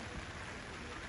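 Steady, faint hiss of rain falling, an even wash of sound with no breaks.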